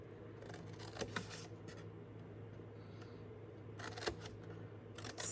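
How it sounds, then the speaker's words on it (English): Scissors make a few quiet snips through paper score lines on a papercraft project, faint clicks against a steady low room hum with no talking. "go through and snip the score lines for these larger sections"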